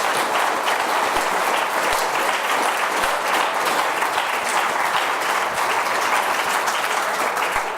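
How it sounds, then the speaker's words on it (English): A seated audience gives a sustained round of applause for a conservation discussion panel at an evening event, steady dense clapping filling the whole stretch without any speech over it. "let's have a round of applause for our panelists"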